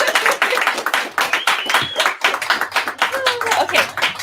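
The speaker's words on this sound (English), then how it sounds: "Okay, big round of applause for you." Small group at an auction clapping in quick, uneven bursts, close and fairly loud, with voices mixed in among the claps.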